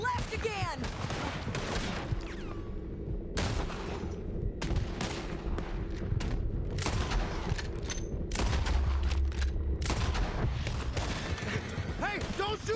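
Gunfire in the video game Red Dead Redemption 2, a canyon chase with riders: repeated sharp shots crack out across the whole stretch over hoofbeat-like rumble, with faint voices in the mix.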